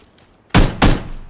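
Gunfire in a PUBG squad match: three loud, sharp shots crack out in quick succession after a quiet start, the first two heavy and close together, the last clipped short.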